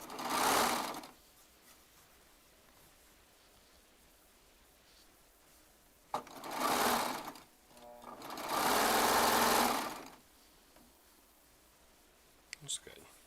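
A Baby Lock Triumph serger stitches in three loud, fast-whirring bursts, the longest lasting a couple of seconds, separated by quiet pauses with small clicks near the end.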